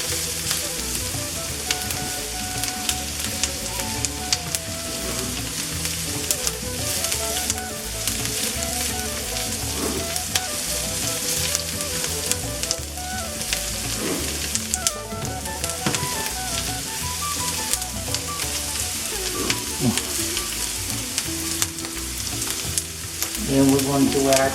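Red and green chilies sizzle loudly with onion in a pan for butter chicken, a continuous dense frying hiss with occasional stirring clinks throughout, no talking.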